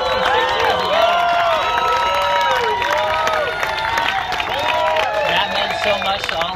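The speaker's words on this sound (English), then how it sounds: "a round of applause for competing out here today at 66 years of age" An outdoor crowd at a surf competition award ceremony claps and cheers for a 66-year-old competitor, with scattered clapping and shouts under a loud wavering siren-like tone that sweeps up and down across the whole stretch.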